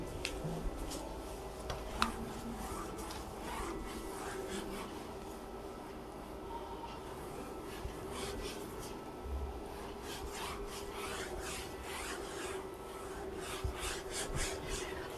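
A teacher wipes writing off a classroom board, a continuous dry rubbing and scraping that runs throughout at low level, with occasional small knocks and no talking.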